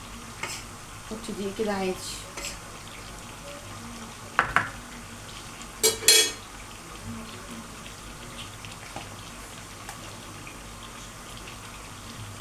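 Chicken for broast sizzles in hot oil in a home kitchen, a steady frying hiss broken by a few sharp clatters while someone talks over it.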